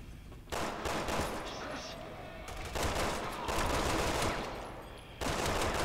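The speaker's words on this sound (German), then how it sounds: "Oh, ich weiß, was ich nehme, Granatwerfer dafür." Grenade launcher fired in Resident Evil 6 during a hangar fight, loud bursts of blasts in several separate waves, with voices talking over the action.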